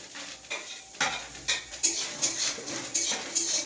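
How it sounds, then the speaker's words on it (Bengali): Dry fruits are stirred and roasted in a pan over a low flame, making rhythmic scraping strokes about every half second with a soft sizzle, close and moderately quiet. "ড্রাই ফ্রুটগুলো আমি একদমই লো ফ্লেমে রোস্ট করব।"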